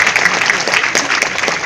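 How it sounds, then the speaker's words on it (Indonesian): An audience applauds during a live comedy-style talk about property investment, a dense, steady burst of clapping lasting under two seconds with no talk over it. "Jadi properti boleh tepuk tangan boleh?"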